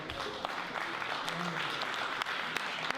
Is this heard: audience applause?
yes